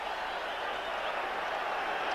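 Crowd noise rising from a packed stadium during the 1988 Rugby League World Cup Final between New Zealand and Australia, a steady distant roar at moderate level with no clear individual voices.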